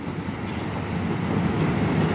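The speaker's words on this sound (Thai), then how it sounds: "ก็จะมีการลากรถเปล่าเข้ามาเก็บนะฮะมันก็วิ่งกันไปมา" A locomotive hauling empty passenger cars through the Bang Sue rail yard, a steady continuous rumble of rolling wheels and engine noise at moderate volume with no break, no voices present.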